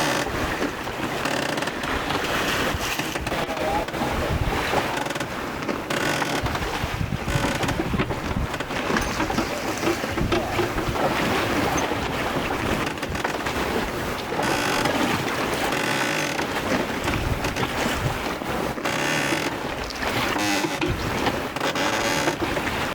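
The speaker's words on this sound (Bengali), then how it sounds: "গভীর সাগরে মাছ ধরতে আসা জেলেদের অনেক ট্রলার দেখতে পাবেন।" Fishing trawler out at sea in the Bay of Bengal, with steady engine drone, wind buffeting the microphone and water rushing past the hull, continuous and loud throughout with no talk.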